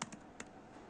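A few soft keystrokes on a computer keyboard, three or four quiet clicks close by in quick succession, then near silence.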